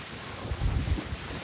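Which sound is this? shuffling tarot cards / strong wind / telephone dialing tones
strong wind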